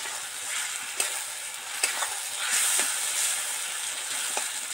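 Masala frying in oil for katla fish curry hisses steadily while a spoon stirs it, with occasional scraping clicks against the pan, close and continuous.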